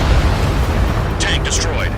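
In the Ace Combat 7 video game, a tank is blown up by aircraft during a pipeline destruction mission, producing a deep, sustained booming rumble followed by a brief crackle of debris.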